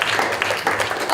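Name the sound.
audience applause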